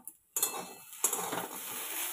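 Dried red chillies fry with cumin and bay leaves in a pan. A metal clink is followed by a sudden, close sizzle that keeps crackling steadily, with a second burst of stirring partway through.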